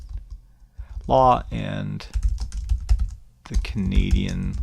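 Keys clatter on a computer keyboard in short bursts of close typing, with a person talking over and between the clicks.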